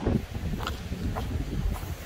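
Wind blowing outdoors near old beaver ponds on a windy day, a steady low rumble of gusts buffeting the microphone with faint rustling.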